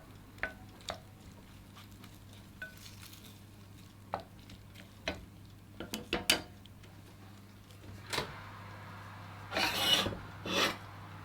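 Potatoes are stirred in a roasting pan of boulangère-style braised lamb shoulder just out of the oven, giving sparse scraping and rasping strokes that grow louder and busier toward the end over a steady low hum.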